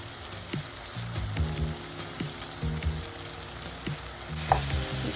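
Ridge gourd and moong dal curry, seasoned with chili powder and salt, sizzles in a pan as a spoon stirs it in repeated scraping strokes, close and fairly loud with no talk.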